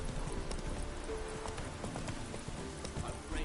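Roach, a horse in The Witcher 3, gallops with steady rhythmic hoofbeats over a dense bed of game ambience, with a faint whinny near the start.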